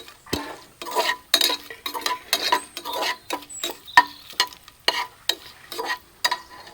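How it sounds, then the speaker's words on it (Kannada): Cashews and bay leaf frying in ghee in a pan for veg pulav, heard as a steady run of rhythmic spatula stirring and scraping strokes over a light sizzle, close and without talk. "ತುಪ್ಪಕ್ಕೆ ನಾನಿಲ್ಲಿ ಗೋಡಂಬಿ ಹಾಕ್ಕೊಳ್ತಿದ್ದೇನೆ. ಗೋಡಂಬಿ ಸ್ವಲ್ಪ ಫ್ರೈ ಆಗಲಿ"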